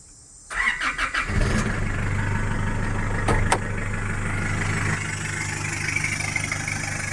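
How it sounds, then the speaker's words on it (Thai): A 2009 Isuzu D-Max 2.5 pickup's engine cranks briefly, catches, and settles into a steady, rumbling idle close by, through an aftermarket exhaust. "ลอง ฟังเสียงเครื่องยนต์"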